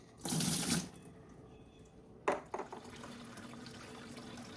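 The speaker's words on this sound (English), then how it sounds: "you can hear I've got the pump running" A small pump circulates water inside a cheap portable parts washer: a short splashing gush, then a quiet, steady mechanical hum with a brief watery surge partway through.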